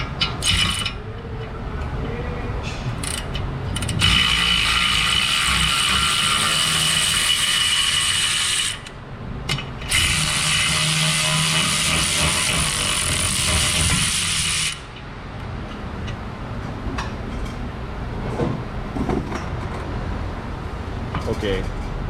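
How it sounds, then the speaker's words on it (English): Ratchet clicking with a half-inch drive Torx socket fitted over bolts on a Jeep that hit hard off road, a steady close mechanical ratcheting run of several seconds with brief pauses, set against shop background noise and some talk. "I need to make it a 1/2 inch drive so I can fit my Torx socket over these here bolts"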